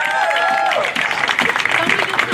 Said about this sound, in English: Also give her a round of applause.